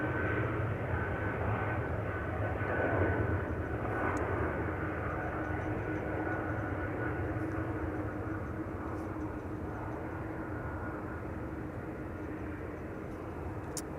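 Inside the rear cabin of an Embraer E195-E2 at Amsterdam Schiphol Airport, a steady low engine and airflow hum drones evenly throughout, fairly quiet and continuous with no speech.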